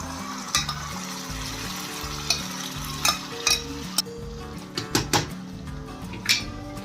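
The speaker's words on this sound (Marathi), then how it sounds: "आता ही मसाला व्यवस्थित आपल्याला परतून घ्यायचा आहे" Masala sautés in a pan for Kolhapuri misal: a constant sizzle runs throughout, broken by sharp metal spatula clinks and scrapes against the pan, with soft music playing underneath.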